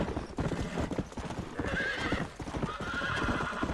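Hooves of a galloping horse in the Red Dead Redemption video game on Xbox Series S, rapid rhythmic clip-clop close up with a whinny mixed in.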